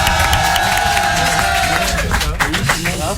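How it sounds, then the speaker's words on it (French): Studio audience at an NRJ radio show applauding and cheering as a guest arrives, with loud clapping, whoops and crowd noise layered under a sustained tone, and voices talking over the commotion. "On va l'applaudir"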